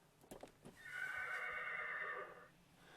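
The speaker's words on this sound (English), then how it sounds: "they get the horse whinny." Custom horn on a Mercedes horsebox camper conversion plays a horse whinny: a few short snorting bursts, then a loud quavering neigh lasting over a second that fades out.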